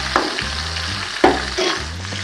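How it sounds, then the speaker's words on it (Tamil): Tomatoes sizzling and sautéing in hot oil in a pan, a steady frying hiss broken by sharp bursts as the pieces are stirred and tossed. "தக்காளி சேர்த்துக்கலாம். தக்காளி நல்லா வதங்கிட்டு"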